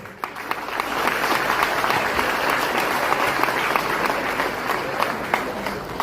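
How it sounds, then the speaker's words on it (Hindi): A crowd at a Rashtriya Ulema Council party meeting bursts into clapping that builds within the first second and then holds as a loud, sustained roll of many hands for several seconds, with scattered sharper claps standing out. "तालियों में जोर नहीं है।"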